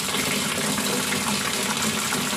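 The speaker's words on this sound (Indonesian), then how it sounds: "Coba kran kita coba nyalakan ya." Tap water gushes steadily into a washing machine being tested after a leak repair, a continuous broadband rush with no pauses and no talk over it.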